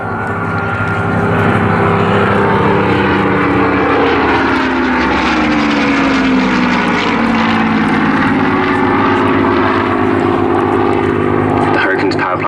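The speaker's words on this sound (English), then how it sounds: "every time the aircraft is coming towards us we'll hear that lovely whine of the supercharger" A Hawker Hurricane LF363, powered by a supercharged V12 Merlin engine, drones loudly and steadily overhead at an airshow display, its pitch sliding as it passes, with a commentator talking over it throughout.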